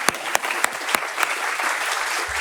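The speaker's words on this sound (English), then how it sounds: "Please, an applause." A conference audience at an integrated photovoltaic event applauds after a session, brisk close clapping from many hands with a few sharp louder claps early on, sustained for a couple of seconds.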